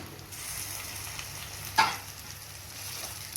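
Spicy chicken fries in a pan with spices, a steady close sizzle punctuated by a single clatter of stirring midway.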